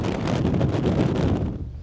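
Strong wind gusting across an exposed hilltop at Mam Tor, a loud, continuous buffeting roar against the microphone that eases slightly toward the end, with no voices.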